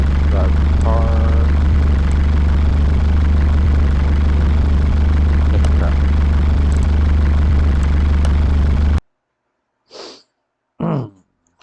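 A car engine in Car Mechanic Simulator 2021 drones steadily and loudly for about nine seconds, then cuts to near silence with two brief bursts of speech.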